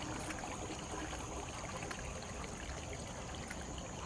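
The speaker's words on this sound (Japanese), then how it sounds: "もう水の音いいでしょ。" Water runs steadily into a roadside drain at night, a constant hissing trickle and flow that holds even from start to end, with a faint high whine above it and no talking.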